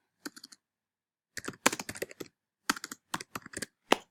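Typing on a computer keyboard while building a mind map in MindMeister: short bursts of quick, light key clicks separated by pauses, close and fairly quiet, with no talking.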